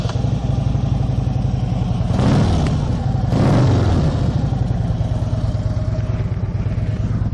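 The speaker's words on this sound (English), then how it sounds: "So let's listen to these mufflers" A 2009 Harley Davidson Street Glide idles with a loud, close, lumpy rumble through its mufflers, rising in two throttle blips before settling back to a steady loping idle.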